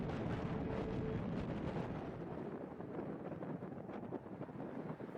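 Strong wind buffets the microphone on a cold, barren, rocky mountain summit at Beinn Odhar near Tyndrum, a steady loud rushing roar that gusts and eases slightly throughout, with no voices.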